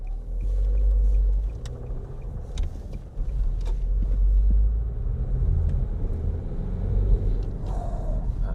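A car with a Renault 1.5 diesel engine drives along, giving a steady low rumble with road and wind noise and a few bumps, heard alone without talk.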